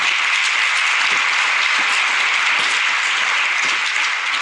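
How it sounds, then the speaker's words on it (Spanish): Loud, sustained applause from a large church congregation during a sermon, steady and dense throughout with no pauses. "Vamos a darle fuerte ese aplauso al Señor."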